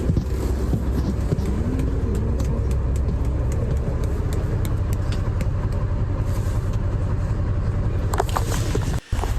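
A bus engine drones steadily while travelling on a road in Saudi Arabia, a continuous low rumble heard from inside, with a brief clatter near the end.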